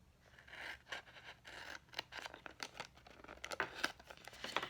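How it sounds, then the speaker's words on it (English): Scissors cut the corners out of a handmade foil box, giving a close, quiet series of crinkling snips and rustles of foil paper with no speech. "So we're going to cut these 2 corners out."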